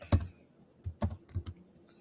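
Several sharp keystrokes on a computer keyboard, typed in short uneven bursts with pauses between them, close and clear in a quiet room while a project name is entered.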